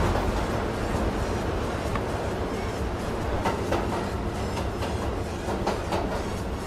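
Train running in the video game Roblox Jailbreak, a steady dense rumble with faint rhythmic clicks as it rolls along, continuous throughout with no talking.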